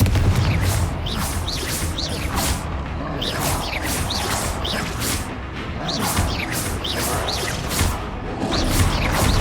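Repeated Confringo fire-spell blasts from Hogwarts Legacy, a dense run of whooshing bursts and crashing impacts that follow one another rapidly and loudly, layered over constant combat noise with no break.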